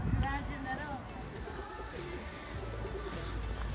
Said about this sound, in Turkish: Burada da güvercinler var.